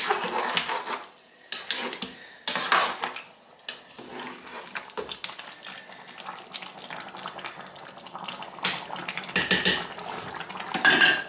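A spoon clinks and scrapes against a pot while meat is mixed for egusi soup, giving irregular clattering bursts between quieter stretches, close and alone.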